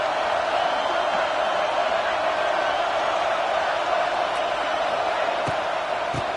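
A steady, dense roar from a stadium crowd in the College Football 26 video game, a continuous wash of noise that holds at an even level throughout.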